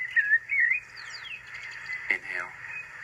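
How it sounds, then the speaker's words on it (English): Birds chirp and whistle in a meadow, a few short bright phrases rising and falling near the start, then fainter calls over a steady low hum. "Listen to the birds sing"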